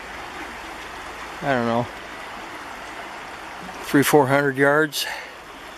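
A river flowing upstream of a walking bridge on a side trail at Sitka National Historical Park, a steady broadband wash running throughout, with a voice speaking briefly over it twice.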